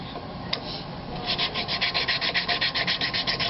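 Rhythmic scraping and rubbing from a brass steam injector valve turned back and forth in its slot with a flathead screwdriver, a steady run of short rasping strokes close by after a brief click, with no talking.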